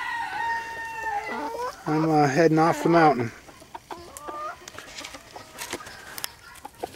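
Backyard chickens on a mountain homestead, with a rooster crowing loudly midway and clucks and short calls scattered before and after, close by, while a person speaks briefly.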